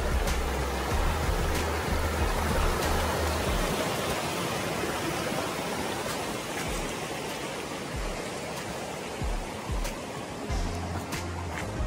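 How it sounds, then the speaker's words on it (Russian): A mountain stream fed by melting snow rushes steadily along a trail in the Altai, its continuous, fairly loud watery hiss filling the scene without talk. "Такой симпатичный ручей сопровождает нас всю дорогу до Марса 2."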